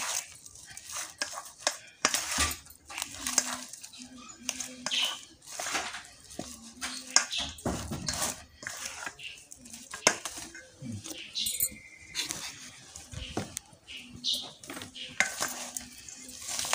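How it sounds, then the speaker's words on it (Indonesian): A cassava snack mixture is stirred in a bowl, giving clattering, scraping utensil knocks against the dish in an irregular rhythm, close by and moderately loud throughout. "kita aduk lagi"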